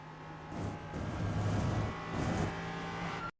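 Ligier JS P320 LMP3 prototype in an iRacing sim at Brands Hatch, engine climbing in pitch as it pulls out of a corner, steady and loud throughout before cutting off abruptly at the end.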